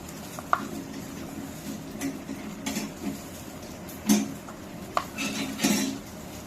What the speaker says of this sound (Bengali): এখন সেটা মরিচের সাথে এবং পেঁয়াজের সাথে ডলে তারপর এটা ভর্তা করা হবে।